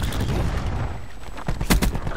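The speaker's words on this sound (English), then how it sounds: "Throwing cluster grenade." Cluster grenade explosions in Black Ops 4, a rapid burst of sharp, crackling blasts and booms heard loud and close, with a continuous rumble of gunfire around them.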